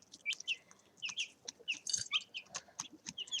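Young chicks peep and cluck in a brooder, a busy run of high chirps and short clucks repeating close by, with no voices.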